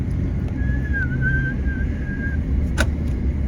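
A thin, wavering whistle-like tone lasting under two seconds from someone struggling to whistle, sounding over a constant hum, followed by a short click.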